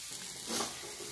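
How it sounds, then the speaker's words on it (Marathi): Soaked chana dal drops into a hot pan of onion-garlic masala for ghol bhaji, a brief, quiet, hissing sizzle that swells for a moment. "आता ह्यामध्ये भिजवून ठेवलेली हरभरा डाळ टाकणे"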